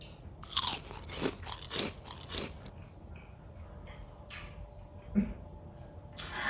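Someone eats pink-dyed scrambled eggs with ham, giving close, faint crunching and chewing sounds in several short bursts with quiet pauses between.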